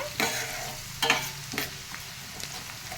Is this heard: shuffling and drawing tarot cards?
no